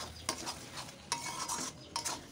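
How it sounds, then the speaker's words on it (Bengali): A spatula stirs green chillies into a curry in a frying pan, making a few soft, separate scraping strokes over a faint background sizzle. The sound is quiet and close, with no talking. "কাঁচা লঙ্কাগুলো দিয়ে একটু ভালোভাবে মিশিয়ে নেব।"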